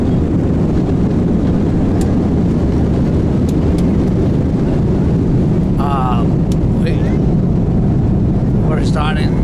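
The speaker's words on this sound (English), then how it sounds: "We're starting the takeoff." A passenger airliner taking off, its engines building to a loud, steady roar with rushing wind noise throughout, heard from on board with faint voices in the background.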